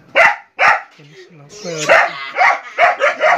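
Dogs bark at night around two in the morning, loud sharp barks in quick bursts with a short whimper between them, while a person speaks briefly.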